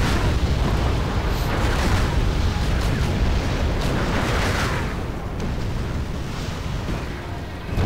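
Artillery shells exploding in the war video game WEE, with a city being destroyed: a dense, continuous rumble of booms and blasts that holds steady and loud throughout, with no clear gaps between impacts.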